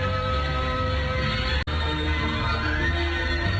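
Horse neighing beside a horse-drawn carriage, a loud, sustained whinny with a rising cry late on, over constant dense background noise and briefly cut by a sharp gap.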